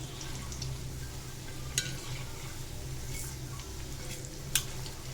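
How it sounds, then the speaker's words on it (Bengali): Onions frying in a pan on a gas stove give off a steady, soft sizzle, with a couple of sharp clinks from stirring. "আমি পেঁয়াজগুলি ভাইজা নিয়ে আসি"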